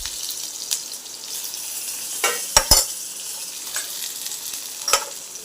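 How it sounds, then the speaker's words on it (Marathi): Onion sautéing in oil in a pan for mutton curry, a steady close sizzle with a few sharp scrapes and clinks of a stirring spoon, no talk. "आणि हे कांदा परतून घेते."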